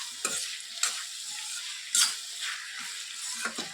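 Ivy gourd frying with green chilies in a pan gives a steady close sizzle, broken by several scraping stirs of a spatula, one sharper crackling burst in the middle.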